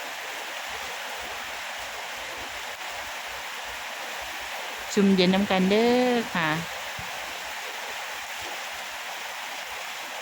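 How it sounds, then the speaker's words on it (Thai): Rain falling steadily in Buntharik district, Thailand, a broad, even hiss running throughout, with someone briefly speaking over it midway. "ฝนตกมาแล้วค่ะที่อำเภอบุตรี"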